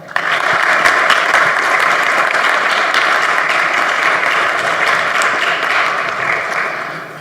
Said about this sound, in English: Please help me to give an applause to welcome Katy.